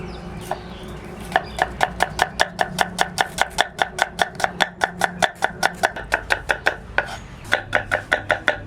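A knife chops food on a board at home while preparing katla fish rezala, a steady run of about twenty sharp, evenly spaced close-up strikes with a brief pause before the rhythm resumes.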